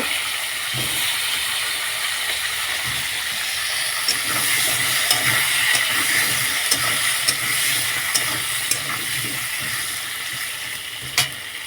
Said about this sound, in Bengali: কুমড়োগুলো একটু ভাজা ভাজা হবে